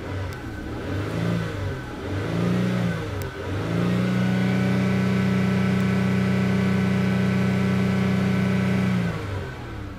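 A 2006 Lincoln Zephyr engine running steadily, first with a couple of short revs and then a sustained higher drone held for several seconds, loud and close with no talk.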